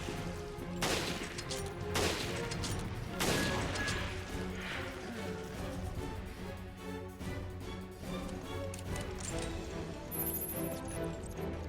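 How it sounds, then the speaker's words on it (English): A sniper rifle fires several sharp, booming shots in the video game Resident Evil Revelations, spaced a second or so apart over a continuous bed of game sound and music. "Surprise this tall guy with a few sniper shots to the face."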